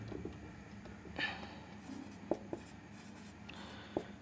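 Handwriting a math solution with a pen on paper, quiet scratching strokes with a few sharp taps, close but faint, with no talking.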